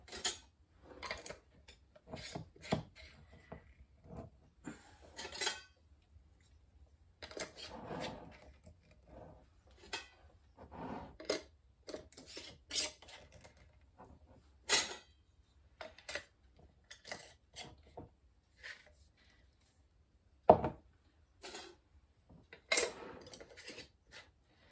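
Metal rings are screwed hand-tight onto glass canning jars of home-canned pork, giving scattered close metallic scrapes, clinks and rubbing sounds in an irregular series with brief gaps, quiet overall.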